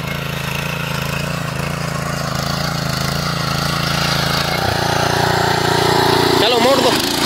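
Power weeder engine tilling a field for mustard sowing, a loud, steady mid-pitched chug running throughout with a slight shift near the end as the machine turns, close to the microphone.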